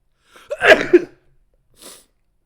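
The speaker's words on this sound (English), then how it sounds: "Is there another sneeze coming?" A single sharp sneeze, close and loud, followed after a pause by a soft breathy exhale.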